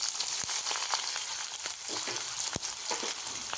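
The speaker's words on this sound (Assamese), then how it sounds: "আদা, জালুক, শুকান জলকীয়া, পিঁয়াজ আৰু কেঁচা জলকীয়াখিনি একেলগতে মই এয়া তেলতে দি দিছোঁ" Ginger, pepper, dried chilli, onion and green chilli fry in hot mustard oil with a loud, dense, continuous sizzle, heard close up with a few faint clinks and no talk.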